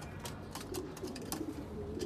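Racing pigeons, including black ones, coo softly in a loft, low murmuring calls repeating over a faint background hiss, distant and quiet.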